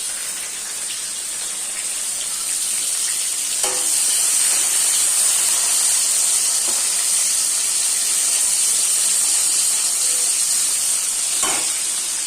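Garlic, tomatoes and green chillies frying in a pan give a steady, close hiss and sizzle throughout, with faint stirring knocks and no talking.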